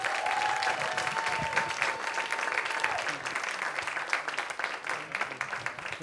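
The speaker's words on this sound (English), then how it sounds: "Give her a round of applause." Sustained audience applause at a live science storytelling show welcomes a speaker to the stage, a dense, steady clapping wash that lasts throughout with a faint tone drifting underneath.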